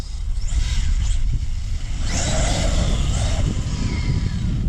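A Traxxas X-Maxx RC truck on bashing tires with a noticeable wobble races toward a jump. Its electric motor whines and rises in pitch over loud rumbling tire and ground noise, close and continuous.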